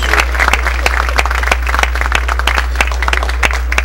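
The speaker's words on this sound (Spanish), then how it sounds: "un fuerte aplauso entonces para este grupo de ingenieros" An audience gives a group of civil engineers a hearty round of applause at an engineering week closing ceremony, a dense, steady clapping that fills the hall.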